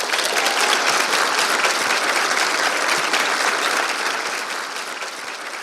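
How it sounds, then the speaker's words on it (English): Sustained audience applause at an evening speaking event with student guests: dense, steady clapping from a sizable crowd, loud and continuous, easing slightly toward the end. "please give them a round of applause"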